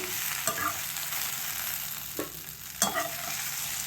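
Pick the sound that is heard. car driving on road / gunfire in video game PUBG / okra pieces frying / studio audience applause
okra pieces frying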